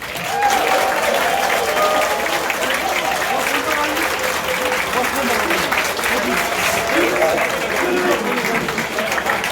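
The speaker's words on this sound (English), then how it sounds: "Please give them a round of applause to our judge staff." An audience at a London gaming tournament event claps and cheers for the judge staff, sustained loud applause filling the whole stretch with crowd noise and voices mixed in.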